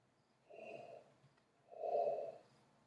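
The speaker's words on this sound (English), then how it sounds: "I'm yawning because I didn't sleep enough" A person yawns twice in a quiet room: a softer breathy yawn, then a longer, louder one after a short pause.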